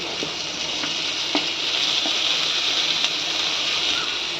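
Chopped tomato drops into onions already frying in oil, giving a loud, continuous close-up sizzle with a few faint taps of stirring, no one speaking over it.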